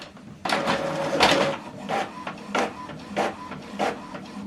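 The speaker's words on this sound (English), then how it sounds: "Now this document is printing." An Epson printer prints a two-sided black document, with a series of mechanical whirring passes and clunks as paper feeds, rising and falling in regular bursts at close range, with no voices.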